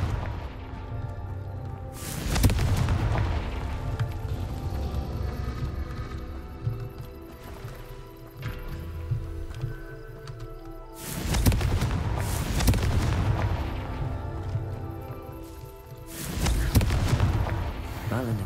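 Confringo spell blasts in Hogwarts Legacy, three loud booming explosions spaced several seconds apart with rumbling tails between them and no talking.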